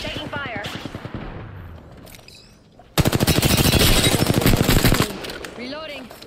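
Rapid automatic gunfire in Apex Legends rattles in long bursts, lighter volleys early then a loud, dense, unbroken stream of shots for about two seconds, with game voices talking around the firing.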